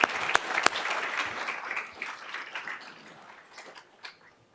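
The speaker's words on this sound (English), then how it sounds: "a round of applause for all you guys." An audience bursts into applause, with lively clapping close by that slowly thins out and fades over a few seconds.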